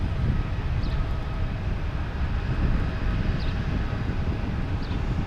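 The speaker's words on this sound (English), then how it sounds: "they're getting some good takeoffs" Jet airliners taking off at Boston's Logan Airport, a loud, steady broadband roar filling the whole stretch with no breaks, close and heavy, with no voices over it.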